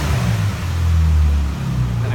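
Engine of a 2013 Jeep Wrangler JK idling with its electronic exhaust cutaway closed, a steady, fairly loud low rumble that holds evenly throughout.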